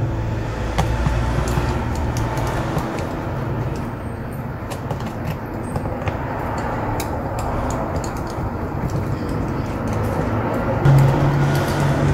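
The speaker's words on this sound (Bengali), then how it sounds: "আসলে আমার দোকানটি মেন রাস্তার পাশে হওয়ার কারণে প্রচুর গাড়ির শব্দ হয়" Steady low rumble of vehicle traffic on a main road outside a phone repair shop, continuous and moderately loud, with occasional passing engines and faint clicks nearby.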